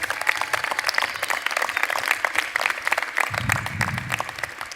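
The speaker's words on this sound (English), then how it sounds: "So let's have another round of applause," Sustained applause from a large audience at a university commencement ceremony for engineering and natural sciences graduates, even and continuous with a low rumble joining near the end.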